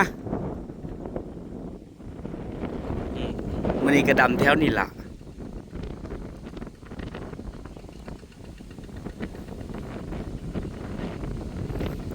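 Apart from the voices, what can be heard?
storm wind over rice fields before rain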